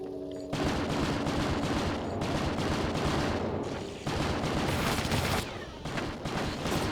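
Automated turrets firing in the squad shooter Project Eden, dense sustained rapid gunfire with two short breaks, loud and close, no talk over it.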